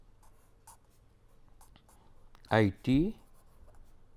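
Chalk or pen scratching out an equation during an engineering lecture: faint, intermittent scribbling strokes through the clip, near but quiet, with someone speaking a couple of words partway through.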